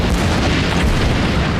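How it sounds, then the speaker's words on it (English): A film sound effect of fembot heads exploding bursts out as a loud, dense boom that roars continuously for the whole short stretch, with no talk. "that, of course, their heads explode."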